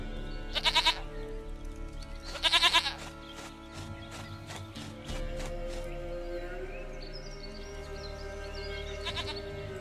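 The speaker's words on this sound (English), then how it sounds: "Goat of mine, dearest, sweetest goat." Goat bleating in The Witcher 3: Wild Hunt, two short bursts of bleats early on and a brief fainter one near the end, heard over a steady low game ambience with no talk.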